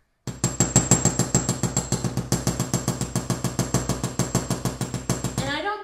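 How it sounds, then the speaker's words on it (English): A hammer beats a copper sheet for earrings in a fast, steady series of loud, even metallic blows, about five per second, close and continuous. "It's just going to depend on how much I hammer."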